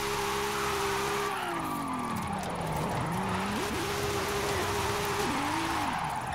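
A Jaguar XKR-S GT drifting in Forza Horizon 5, engine tone swooping down and back up as the tires squeal continuously through the slide, loud and steady throughout.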